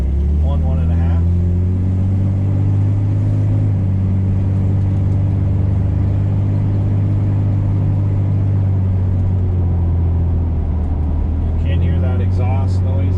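Low, steady engine and exhaust drone from a 1965 Corvair Monza heard from inside the car while driving, a constant rumble with brief faint voices near the start and end.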